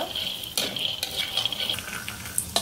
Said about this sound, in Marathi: छान असे शेंगदाणे लालसर होऊन द्यायचे आहेत।